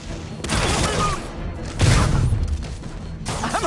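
Loud cartoon gunfire in a Spider-Man episode comes as dense bursts of rapid shots and booming impacts over a busy action-scene background.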